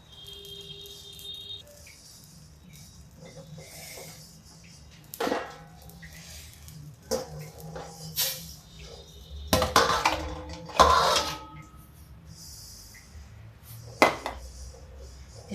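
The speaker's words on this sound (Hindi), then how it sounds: "ये कढ़ाई में रामदाना भून रहा है" Amaranth seeds (ramdana) roast in a kadhai with faint crackling and patter, broken by sharp scrapes and metallic clatters of stirring, scattered irregularly over a quiet background.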